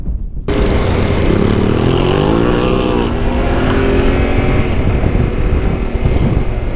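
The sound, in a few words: KTM motorcycles passing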